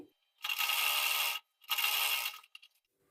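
A sewing machine stitches blouse fabric in two close bursts of steady whirring, each about a second long with a short pause between, then a few faint clicks, no talk.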